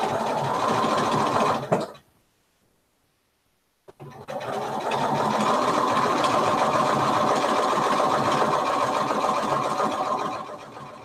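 A sewing machine runs a top stitch on a knitted sweater bag, whirring steadily and close for about two seconds, stopping briefly, then starting again and running continuously for several more seconds.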